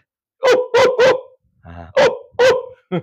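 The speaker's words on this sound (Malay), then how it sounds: "Anjing menyalak." A dog barks loudly and close by in a run of sharp, evenly spaced barks, three together, then a short whine and three more barks, with no talk over them.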